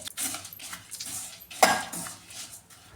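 A spoon scrapes and clinks against a pan as grated coconut is stirred while roasting for a Kerala theeyal curry, several soft, irregular strokes with one sharper knock midway, close and fairly quiet.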